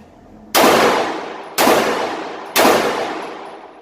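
A Walther Creed 9mm pistol fires three loud, sharp shots about a second apart, each with a long ringing decay, heard close and outdoors at a shooting range.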